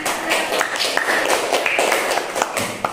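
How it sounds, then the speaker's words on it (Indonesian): A classroom of students claps after a group presentation, a brief flurry of scattered, uneven handclaps heard up close. "Beri tepuk tangan semuanya."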